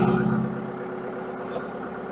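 A Bobcat skid-steer diesel engine idling close by, a steady low throbbing hum that drops slightly in level after the first half second.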